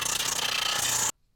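Steady abrasive rubbing of sandpaper against wood, a continuous close scratchy hiss for about a second before stopping.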